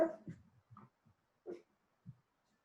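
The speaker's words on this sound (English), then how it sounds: "You got a little dog." A small dog whimpers in a few short, soft whines and snuffles spaced apart in an otherwise quiet room.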